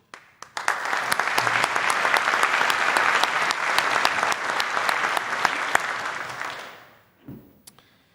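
Sustained applause from an audience at a church synod session, dense clapping swelling quickly and holding steady for several seconds before fading out, followed by a brief quiet stir.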